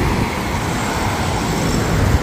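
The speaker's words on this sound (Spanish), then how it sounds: "Ojo, que están pasando mucho carro" Cars pass along a road near a family hotel in Chachagüi, Nariño, making a loud, continuous traffic roar with no pauses and no voices.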